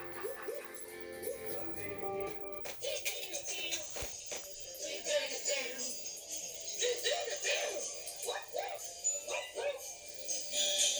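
A dog barks, yips and whimpers in quick, uneven bursts in a farm-animal setting, close and fairly loud, mixed with a voice and background music throughout.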